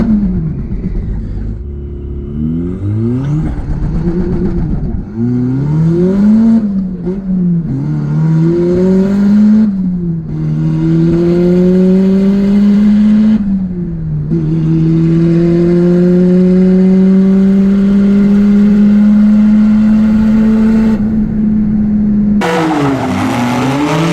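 An offroad Mazda Miata and a Mitsubishi 3000GT rally car launch in a drag race, engines roaring loud and close through repeated rising revs and gear shifts before a final surge as a car rushes past.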